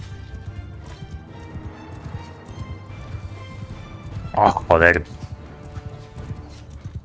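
Horse hooves thud in a steady gallop in Mount & Blade II: Bannerlord with the Realm of Thrones mod, a fairly quiet, even beat under a man's sudden loud exclamation.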